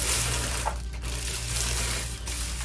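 Water runs steadily from a tap or shower, rinsing hair dye out of hair, a soft continuous splashing wash heard close and alone with no voices.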